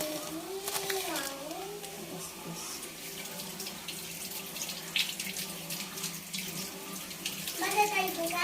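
Tap water runs steadily while bay leaves are rinsed under it for a cooking dish, a continuous close splashing that holds throughout, with voices heard briefly over it.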